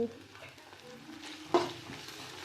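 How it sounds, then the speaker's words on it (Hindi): Tomatoes fry in a pan over a high gas flame for pasta, a soft steady sizzle with stirring scrapes and one sharp clatter midway, close by and without talk. "अब हम ये टमाटर डालेंगे, अब इसको थोड़ा तेज कर देंगे गैस को"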